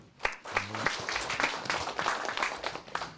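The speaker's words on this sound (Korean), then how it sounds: "박수 한번 쳐주시기 바랍니다." An audience at a Korean local community meeting applauds, a fairly faint, dense patter of many hands clapping steadily for a few seconds with a little background voice.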